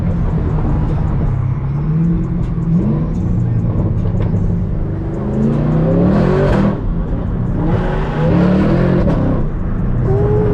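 A powerful Camaro ZL1 engine revs and accelerates hard, rising in pitch through several surges, loud and close, with an excited voice briefly in the background.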